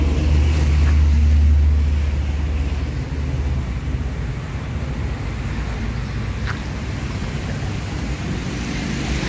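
A Sipirok Nauli Express Jetbus HD coach pulls into the Sipirok Nauli bus terminal. Its engine gives a heavy low rumble that is loudest at the start, then settles into a steady drone under a broad wash of outdoor noise.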